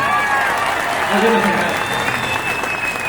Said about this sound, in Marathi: एकदा प्रचंड टाळ्या